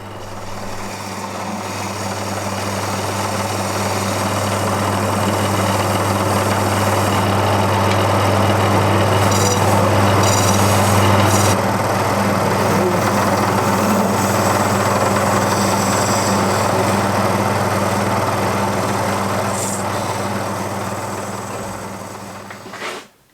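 A lathe runs steadily with a constant motor hum while cherry wood is turned for a small Christmas tree, the cutting noise swelling and easing over about twenty seconds with brief scraping bursts midway.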